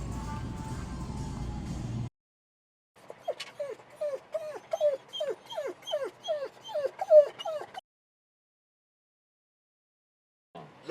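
Several dogs inside a car whimper and yip in a quick repeated series of high, nasal whines, close and fairly loud, with engine rumble at the start and brief quiet stretches before and after.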